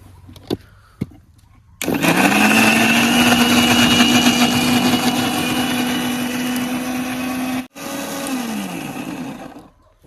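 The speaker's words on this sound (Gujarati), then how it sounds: "ડબ્બું મેકી દે હું મિક્સર ઉપર" A mixer grinder blends tomatoes for gravy in a village kitchen, starting abruptly after a couple of soft knocks and running as a loud, steady whirring motor with a brief cut-out near the end before resuming.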